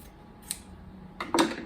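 Scissors trim quilt fabric nearby, a lone soft snip and then a short, louder cluster of cuts, with no talk.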